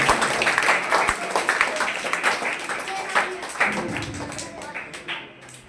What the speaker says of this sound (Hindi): विक्रांत सैनी, तेरे जोरदार तालियां करते हैं।